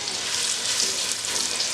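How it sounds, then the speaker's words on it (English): Chicken pieces browning in a pot for Cajun chicken linguine Alfredo give off a steady, fairly loud broadband sizzle that runs without a break and without any talk. "I'm going to just start taking my chicken and putting it in the pot. And we want to get this nice and browned."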